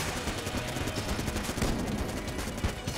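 Tank boss in the Enter the Gungeon video game firing its guns: dense, rapid bursts of gunfire and booms pound continuously at steady loudness, with no pauses and no voices.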